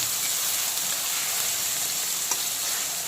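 Chopped onion frying in hot oil in a wok, a dense, loud, continuous sizzle and crackle with a faint stir near the end, close and unbroken throughout.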